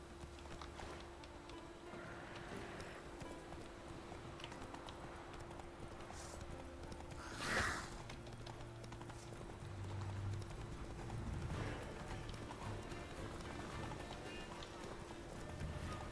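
The horse Roach in The Witcher 3 trots with soft, rhythmic clip-clop hoofbeats under faint background ambience, with one brief louder burst partway through.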